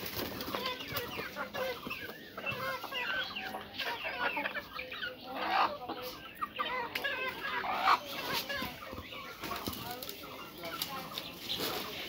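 Chickens on a small home farm cluck and chatter steadily throughout, with bursts of wing flapping and a voice talking over the flock.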